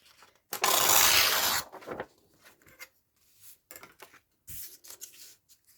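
Book-page paper torn by hand to make a flap for an envelope pocket craft, one loud close rip followed by quieter rustles and handling sounds.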